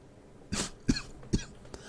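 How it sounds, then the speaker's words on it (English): Three short dry coughs in quick succession, close to the microphone, followed by a faint fourth, with no speech. "I am so sorry, I keep coughing."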